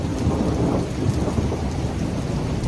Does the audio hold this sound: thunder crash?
yes